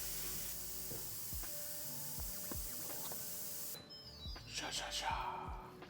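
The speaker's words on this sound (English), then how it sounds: "I'm just releasing the steam right now" Pressure cooker full of pozole vents steam in a steady loud hiss that cuts off abruptly partway, followed by softer clatter and rustling nearby.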